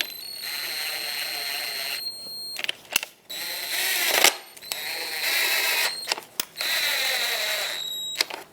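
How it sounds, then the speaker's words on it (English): Screws being driven into the plastic emblem of a 2014-2021 Mazda 6 grille with a whirring power driver, several bursts separated by short pauses and clicks, close and fairly loud. "we have to screw in the 3 screws on the emblem as well as the 2 on this side piece here"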